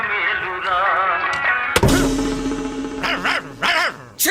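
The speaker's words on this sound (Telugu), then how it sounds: "కుక్క కుక్క కుక్క కుక్క సీత సీత" A dog barks several times in sharp bursts, following a stretch of wavering vocal sound and a sudden loud thump.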